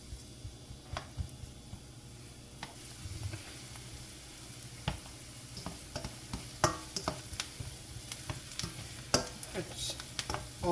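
Ingredients for Spanish cod simmering in a pan, a low, steady sizzle with scattered close clicks and scrapes as they are stirred, louder stirring strokes bunching toward the end, no voices.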